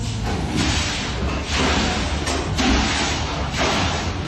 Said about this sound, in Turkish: Yeni yapılan bu bina depremin etkisiyle öyle bir sallandı ki düşen beton parçaları herkesi korkuttu.